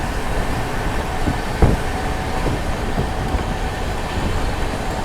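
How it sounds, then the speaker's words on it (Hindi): Andhra Pradesh Express 20805 running at about 130 km/h through the dark on a monsoon journey, heard from inside a general coach: a steady, loud rolling rumble with occasional sharp clacks over the rails. "130 की रफ्तार में अंधेरे में दौड़ रही है एपी एक्सप्रेस।"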